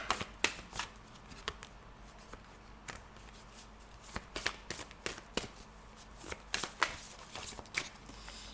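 Oracle cards being shuffled by hand for a cross-spread tarot reading, a run of quick papery riffles and taps repeating irregularly, close and fairly soft, with no talking.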